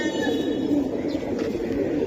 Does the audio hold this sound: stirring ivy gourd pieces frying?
no